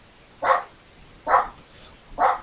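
Three sharp dog barks indoors, evenly spaced about a second apart, loud and close with no talk over them.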